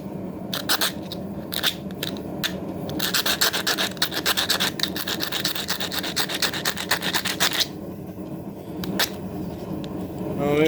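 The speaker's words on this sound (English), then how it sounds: "Maybe go around the stem a little bit, scratching off just a little bit" A file scratches over the surface of a handmade leaf, making close, rapid rasping strokes in bursts, with a dense run of scraping through the middle and quieter pauses between.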